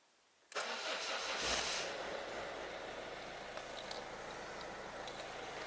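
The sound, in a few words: 1.6 HDi diesel car engine starting after timing belt job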